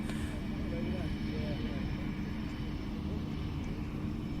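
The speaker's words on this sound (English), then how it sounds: "With a Belgium Viper display, the brilliant F-16, very nicely painted up." A Belgian F-16 Viper jet at an air display gives a constant, broad engine roar that holds steady throughout without fading.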